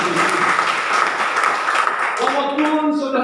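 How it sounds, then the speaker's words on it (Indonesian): Congregation applause at a church service, a lively clatter of many hands that fades as a voice begins speaking over it toward the end. "Yang setuju tepuk tangan yang paling meriah."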